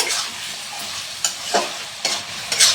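Chicken kosha being stir-fried in a pan gives a steady hot sizzle, broken by several sharp scrapes and stirs of the spatula that come at irregular intervals, all close and fairly loud, with no talking.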